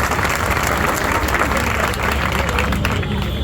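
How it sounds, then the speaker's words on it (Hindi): An audience at a talk claps together in a dense, steady burst of applause, loud and sustained for a few seconds before trailing off slightly at the end. "तो सबसे पहले आप अपने लिए तालियां बजाइए"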